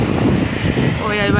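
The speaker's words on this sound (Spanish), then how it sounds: "no es el ruido, es el sonido del mar." Sea waves and wind on a beach in Cancun, a rough gusty roar of surf with wind buffeting the microphone, close and fairly loud, with a voice speaking over it.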